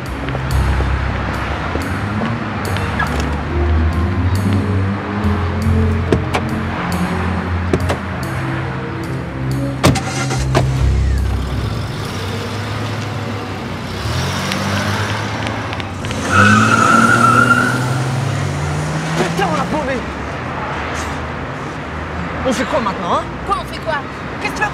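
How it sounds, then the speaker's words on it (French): Car driving by with a steady engine rumble that swells and fades over a long stretch, tires hissing on the road, while people talk over it. "Elle est là, la voiture."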